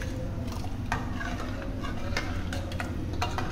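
Green vegetables, two potatoes and chickpeas are stirred in a cooking pot, with steady scraping and clinking of a utensil against the metal over a low sizzling background, close and continuous, with no talking.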